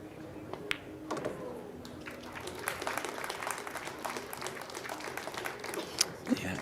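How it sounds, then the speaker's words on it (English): A round of audience applause at a women's professional pool match in Las Vegas, fairly faint and scattered, with a commentator's voice talking over it and a few sharper claps standing out. "nice round of applause from the audience"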